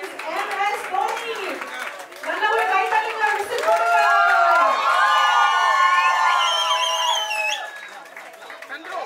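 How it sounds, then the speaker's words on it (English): A crowd cheers and shouts excitedly, high voices whooping and calling out over scattered clapping, building to a loud sustained roar before easing. "A big round of applause for Mr. Ashwini Vasan and the Chennai Super"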